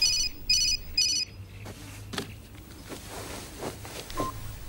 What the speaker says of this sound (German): Eine SMS von Louis.